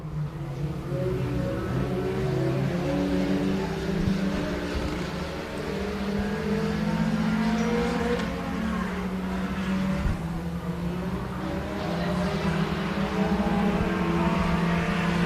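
Race cars lapping a dirt speedway at night, a continuous layered engine roar with overlapping drones from several cars rising and falling as they circle, steady and moderately loud with no voices.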